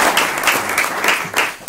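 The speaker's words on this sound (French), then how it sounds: "merci, on peut l'applaudir encore." Conference audience applauding, a dense wash of many hands clapping steadily at close range and fairly loud for nearly two seconds.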